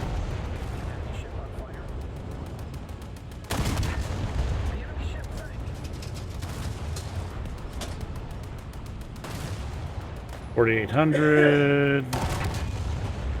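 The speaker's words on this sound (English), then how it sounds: "that is quite the broadside" Warship guns fire a broadside in War Thunder, with booming blasts under steady engine rumble, followed by a loud metallic burst near the end; someone talks over it.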